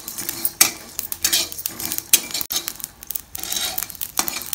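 Cinnamon, pepper and cloves are dry roasted in a pan for a stuffed brinjal curry, with close metal scraping and stirring clatter in uneven bursts and a faint sizzle underneath. No one speaks.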